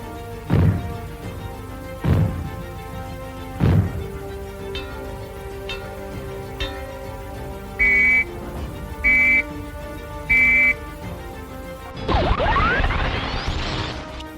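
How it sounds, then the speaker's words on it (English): UK nuclear fallout warning signals: three heavy booms sound at intervals, followed by three short whistle blasts, then a burst of noisy sweeping sound at the end. "If the fallout warning sounds are heard, they will be like these."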